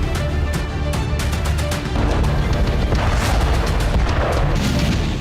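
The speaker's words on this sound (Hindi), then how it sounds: "पावर स्टेशन पर धमाका देखा जा सकता है, जिसके बाद जबरदस्त धुआं उठता नजर आ रहा है।" Explosion at the Hezyaz power station in Sanaa: a loud, continuous rumble with sharp cracking bursts early on, rolling and heavy throughout.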